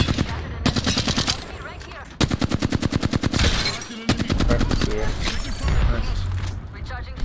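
Rapid automatic gunfire in Apex Legends ranked play, close and loud, with long rattling bursts broken by short pauses and punctuated by heavier impacts.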